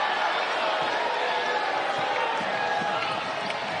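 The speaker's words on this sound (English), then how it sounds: "And the crowd lets them know about it." A college basketball arena crowd roars steadily after a forced air ball, a dense wash of voices with a few scattered bounces and thumps, no single voice standing out.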